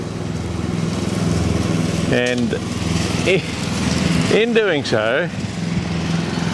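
A lawn mower engine drones steadily through the whole stretch as grass is cut after heavy rain, with someone talking over it partway through.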